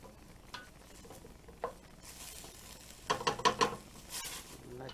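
Vegetables for a vegan chili sauté in a pan, with a soft steady sizzle and scattered stirring scrapes that build into a louder burst of clatter and crackle near the end.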